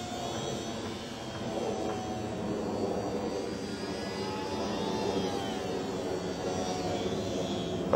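Extra 330L radio-controlled aerobatic airplane flying overhead, its engine producing a steady, continuous drone that shifts slightly in pitch as it maneuvers at a distance, with no talking.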